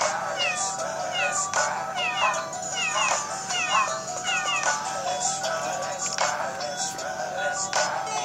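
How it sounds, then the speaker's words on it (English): Repeated cat meows from the Nintendo 3DS Sound app, a series of synthetic, pitched mewing calls in an irregular rhythm over a steady background hum, fairly loud and close. "Meow."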